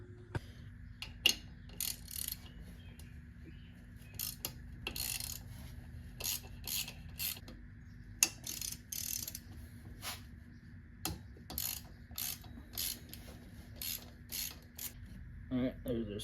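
A ratchet works the power steering pump bolts loose on a Subaru WRX, quiet bursts of rapid clicking repeating in short strokes with brief pauses between them.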